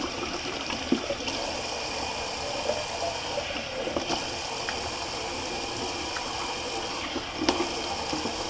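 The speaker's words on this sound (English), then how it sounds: "Let me just do a good cold water rinse." Cold water runs steadily from a tap during a face rinse while shaving with a vintage Gillette razor. It makes a continuous close splashing stream with no talk over it.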